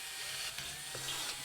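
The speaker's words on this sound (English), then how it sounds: "Drilling in through the first wall and then taking care to make sure I'm punching through at a sort of 90-degree angle to the box section" A power drill bores a 3.5mm clearance hole into scrap steel box section for a stereo rack, a steady high whining grind with small shifts in pitch as the bit cuts through the metal.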